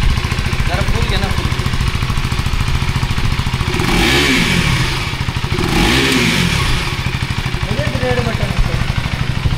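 A KTM Duke 390 motorcycle idles with a steady, close, loud thump and is revved twice in rising and falling bursts, with people talking over the engine.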